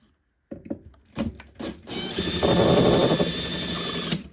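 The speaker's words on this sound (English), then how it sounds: "the chassis mounting bolts have nice clean heads for this little Makita here, which I will use judiciously" A small Makita power tool driving chassis mounting bolts on a 1967 Fender Showman amplifier: a few short clicks and bursts, then a steady close whirring run of the motor for a couple of seconds.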